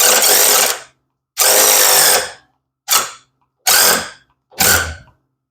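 A battery-powered tool works the hinge bolts on a 1991 Honda Civic Wagon in five loud, close bursts of whirring, each cut off abruptly with silence between, the later ones shorter.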